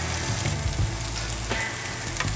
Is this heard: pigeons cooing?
no